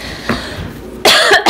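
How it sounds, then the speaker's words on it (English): Two coughs from a person with allergies, a short one followed by a louder, harsher burst, close to the microphone. "So I'm going to be kind of probably coughing on you a little bit."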